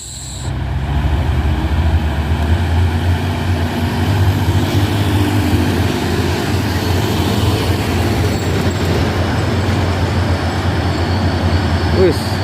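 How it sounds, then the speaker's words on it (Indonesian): Fuso and Hino trucks labour up a hill at Bukit Kodok with a loud, continuous low engine rumble and road noise, heard close by. Someone talks over it. "Ya, ada truk Puso dan Hino ya teman-teman."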